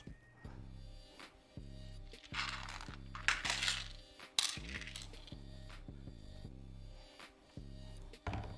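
Small metal screws clinking and dropping while a gaming PC is assembled, several bright metallic clinks and short rattles at close range, with a repeating low tone running underneath.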